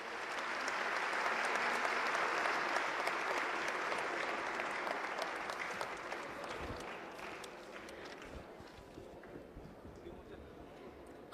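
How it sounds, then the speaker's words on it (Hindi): Loud, sustained applause from an audience in a legislative assembly hall in Bhopal, a dense wash of clapping that fills the whole span and slowly eases off toward the end. "तालियां एक बार जोरदार बनती हैं।"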